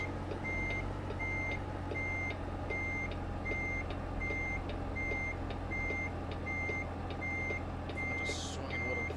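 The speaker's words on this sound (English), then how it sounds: "I'm gonna have to remember to turn off that backwards beeper, because that thing gets on my nerves." In American Truck Simulator, a truck's reversing beeper sounds a regular train of evenly spaced beeps over a low engine rumble, moderately quiet and steady, with a brief hiss near the end.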